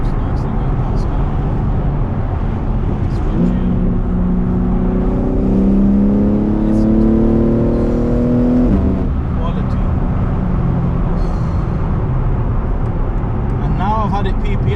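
A car passes by on tow along a road, its engine and tyre noise rising with a whining tone that swells then fades, under continuous talk from people nearby.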